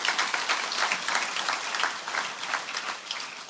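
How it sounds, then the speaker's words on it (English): Audience applause at a learning festival speech in Singapore, a steady dense wash of clapping from a large crowd that holds evenly for several seconds without voices. "we should give yourselves a huge round of applause for their achievement"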